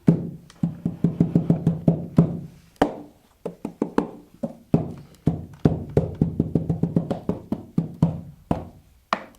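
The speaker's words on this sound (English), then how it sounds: "Another percussive sound would be, of course, hitting the bellow." A steady run of dry, percussive knocks and slaps on accordion bellows, quick rhythmic hits in clusters with brief pauses, close and fairly loud.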